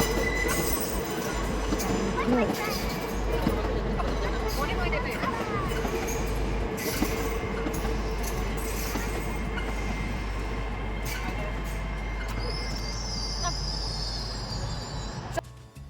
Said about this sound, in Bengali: ওই যে দেখতে পাচ্ছেন দূর থেকে আমাদের ট্রেন ঢুকছে।